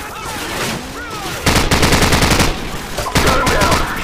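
Machine gun fire rattles in a war video game, with two sustained bursts of rapid shots, loud and close, over a busy battle soundscape.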